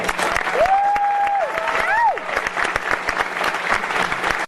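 Audience at a furry convention's closing ceremony claps steadily, with scattered cheers and whistles, while a voice speaks briefly over the applause early on.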